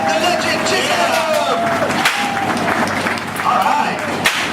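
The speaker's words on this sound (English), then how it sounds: "Stop your feet, clap your hands, and give it up for Brett the Legend Chisholm!" An outdoor crowd at a gator wrestling show claps and stomps for the wrestler, a dense, steady wash of applause and cheering with a loud voice talking over it.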